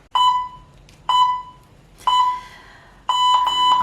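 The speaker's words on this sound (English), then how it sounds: "Alright, I'm gonna start the timer." A timer alarm sounds four sharp electronic beep bursts, each about a second apart and ringing briefly before the next. The beeps are loud and close, with nothing else heard.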